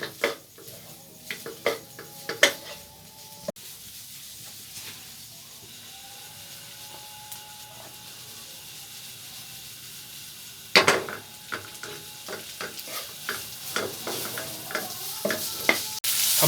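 Keema frying and being stirred on a hot tawa, a steady sizzle broken by quick bursts of spatula scrapes and metal clatter that turn busier toward the end, with no voices.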